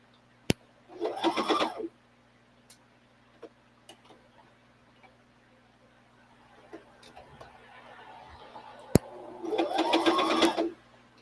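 A sewing machine stitches in two short bursts of rapid, whirring needle strokes, close and fairly loud, separated by a quiet stretch of small clicks and handling noises.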